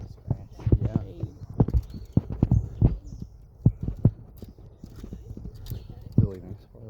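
Donkey hooves clip-clopping along a nature center trail, a steady series of close, sharp knocks with people chatting over and between the steps.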